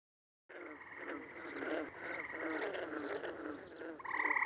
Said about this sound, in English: listen to those beautiful frogs and mosquitoes. Wonderful sound. Wonderful EverQuest sounds